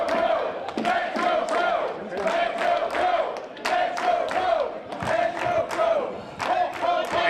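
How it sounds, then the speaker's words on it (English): A wrestling crowd at a retirement match for a pro wrestling show roars and cheers continuously, with whoops and shouts rising and falling around a steady loud din. "But listen to the crowd. They're having a great time at this retirement match for Adam Pearce."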